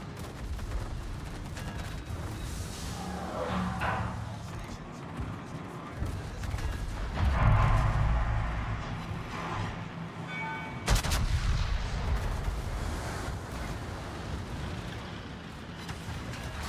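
Flak bursts and gunfire in the naval combat game World of Warships, a steady rumble of overlapping booms and cracks with heavier blasts near the middle and a sharp crack later, under occasional talk.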